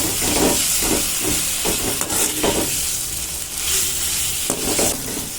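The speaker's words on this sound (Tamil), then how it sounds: "இஞ்சி பூண்டு பேஸ்ட் சேர்த்துட்டு நல்லா வந்து கிண்டி விட்டுக்கோங்க இல்லைன்னா வந்து அடி பிடிச்சிரும்" Ginger garlic paste sizzles and hisses in a hot pan as it is stirred and sautéed for a cauliflower gravy, with repeated scraping strokes of a spoon over a continuous frying crackle.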